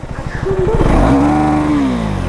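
A 2024 third-generation KTM Duke 390 motorcycle engine revs up sharply in track mode, its pitch climbing and holding in a loud roar before easing back slightly, heard close up.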